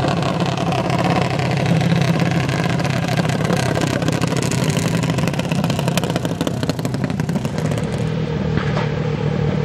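Several small high-revving junior race car engines buzz continuously and loudly on the track at St. Thomas Raceway Park, blending into a steady droning roar with no voices.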